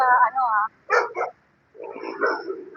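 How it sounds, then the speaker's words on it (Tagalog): A few large dogs bark in short bursts, fairly close, during a street-clearing operation outside the Manila post office, with people talking over and after them. "daming aso, nakakatakot."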